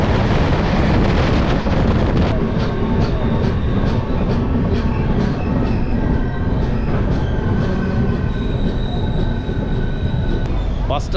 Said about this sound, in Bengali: বিফোর টাইমেই ঢুকছে বালুরঘাট এক্সপ্রেস